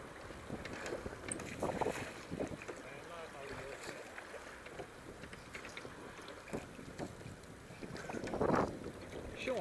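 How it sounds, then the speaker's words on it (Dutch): Strong gusting wind buffets a sailing boat, roaring across the microphone in uneven bursts while crew members call out to each other nearby. "Jongen, klote wind."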